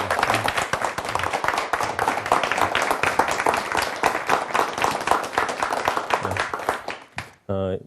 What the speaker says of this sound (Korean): 여러분들 박수로요